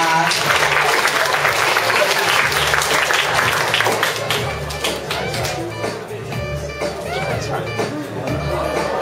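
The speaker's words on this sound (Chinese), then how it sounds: "掌声欢迎他。" Audience applause at an award ceremony where individual prizes are presented, a dense, loud, sustained clapping from a crowd that eases off slightly toward the end.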